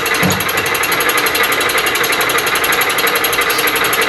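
Fly cutter on a Bridgeport milling machine facing across bandsawn metal, a steady, loud, continuous buzzing chatter with a rapid repeating pulse, close up and alone.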